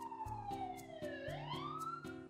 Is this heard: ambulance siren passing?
yes